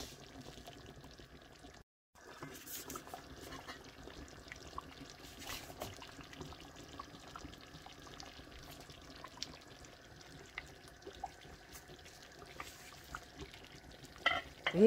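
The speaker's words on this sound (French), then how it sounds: "Vous mettez les oignons, les échalotes découpées finement et le câblé. Voilà, je vais laisser cuire tout doucement." Finely chopped onions and shallots cooking gently in a pan for a Gabonese-style seed sauce, giving a faint, low sizzle with occasional soft stirring clicks throughout, quiet and close.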